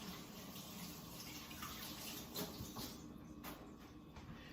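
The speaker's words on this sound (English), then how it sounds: "let me wash my hands." Steady running tap water splashes softly as hands are washed in a kitchen, a continuous faint hiss with small irregular splashes and no talking.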